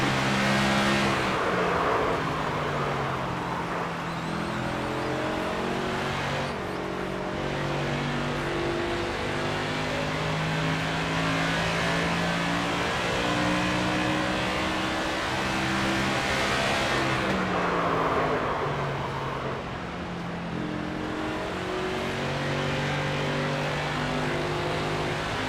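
Race car engine in a racing video game at NHMS, revving steadily through a full lap, with rising and falling harmonic pitch sweeps as gears shift, loud and continuous throughout.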